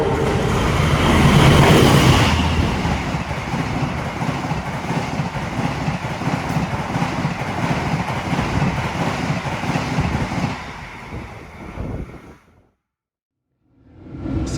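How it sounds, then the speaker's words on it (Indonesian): The Argo Lawu passenger train rushes past on an Indonesian railway, a loud roaring rumble with wind buffeting that builds, holds for about ten seconds, then cuts out abruptly. "Mau lihat si kereta kesayangan melintas"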